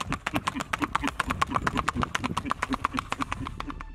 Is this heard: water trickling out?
no